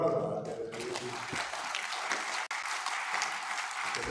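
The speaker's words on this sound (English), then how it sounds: "to leave a big hand clap to all of our delegates" Audience applause for delegates at a local governance roundtable, a dense, steady clapping from a large crowd that starts after a brief voice and continues throughout, loud and near.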